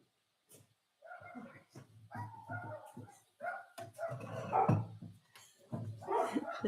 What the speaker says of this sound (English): They're all outside barking at something.